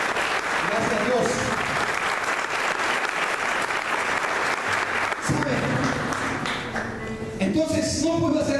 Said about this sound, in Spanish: Denle un aplauso a Jesús esta mañana